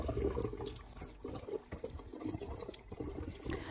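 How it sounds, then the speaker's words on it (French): Fermented lemon drink is poured into a glass lemonade bottle up to just below the brim, making a soft, quiet stream of liquid with gentle splashing and gurgling throughout. "Je verse jusqu'à environ 1/2 cm du bord de ma bouteille."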